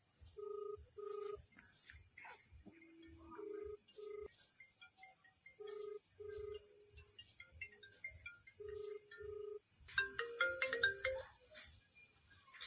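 A mobile phone ringtone plays during a call, a melody of repeated electronic beeps with bright high chirping tones above it, steady and fairly loud, with no talking.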